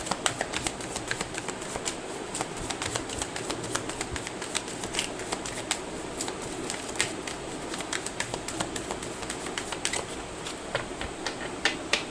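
Tarot cards shuffled by hand in a steady run of soft riffling and flicking, close and continuous for the whole stretch, with bird cooing faintly in the background.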